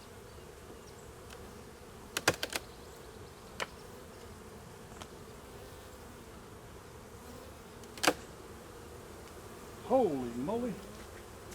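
A densely populated honeybee hive, opened for a mid-January inspection, gives off a faint, steady buzz, with a few sharp clicks and a brief closer drone near the end, and someone speaks briefly.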